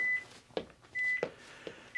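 A workout timer gives three short electronic beeps, evenly spaced and fairly quiet, with sustained tones between, in an otherwise quiet room.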